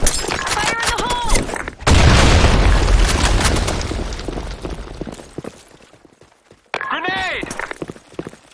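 A grenade explodes in a Sand Storm II video game match, a loud broadband boom with a long rumbling tail that slowly fades, followed by game voice callouts shouting over the action.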